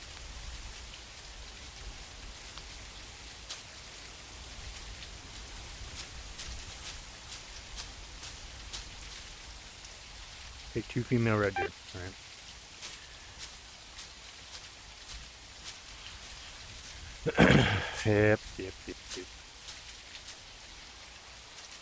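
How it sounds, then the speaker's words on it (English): Steady video-game rain patters continuously with scattered drips, while a voice speaks briefly twice partway through. "Of course it's raining. It's always raining when I play this game."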